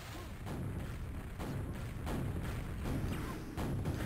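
Rapid, repeated impact bursts of a nail trap firing in a QuakeWorld team deathmatch, a dense stream of punchy shots pulsing every half second or so amid steady game noise.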